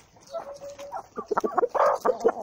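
Several chickens, including barred roosters, clucking nearby in short, irregular bursts, growing busier toward the end.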